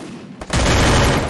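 Gunfire in a competitive online shooter match bursts in abruptly after a quiet moment, a dense, loud sustained volley close up that fills the rest of the short stretch with no talking.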